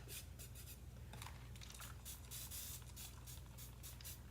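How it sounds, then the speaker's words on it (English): Spray bottle misting water onto an IOD paint inlay sheet laid on a craft surface, a run of short breathy hissing spritzes repeating close by over a low steady background hum, with no one talking. "Spritz it."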